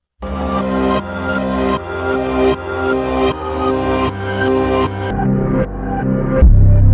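A reversed drum loop made in FL Studio: swelling, sucking hits that build and cut off in a repeating pulse, loud and continuous, with no voices.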